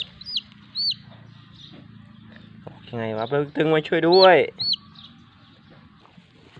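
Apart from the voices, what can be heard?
chick chirping while being rescued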